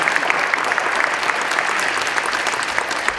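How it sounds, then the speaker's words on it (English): Crowd at a high school wrestling senior night breaks into steady, loud applause, dense clapping filling the gym without pause from start to finish. "Could we please give a big round of applause for Miles?"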